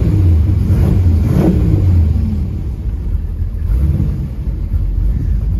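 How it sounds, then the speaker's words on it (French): A 1932 Ford roadster hot rod with an automatic gearbox: a loud, close engine rumble that rises as it revs and then settles to a throbbing idle. "Et bien sûr, on va le démarrer."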